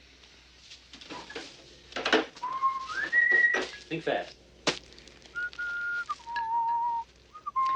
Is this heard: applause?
no